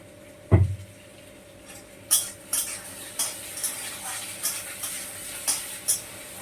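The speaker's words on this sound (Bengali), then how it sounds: "মটর ভেজে নিই" Peas frying in a pan, a quiet sizzle under a dull thud, then a series of sharp metallic scrapes and clinks from a utensil stirring at a loose, regular pace.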